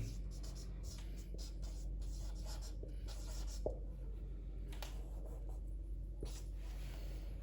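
Pen strokes scratch on paper while a commerce journal entry is written out, soft intermittent scribbles and taps up close over a low steady hum, with a voice speaking faintly at times.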